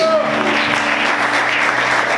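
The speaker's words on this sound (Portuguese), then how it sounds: "Quantos podem aplaudir ao Senhor por isso?" A church congregation applauds during a sermon, a steady dense wash of clapping with sustained tones from music or voices running underneath.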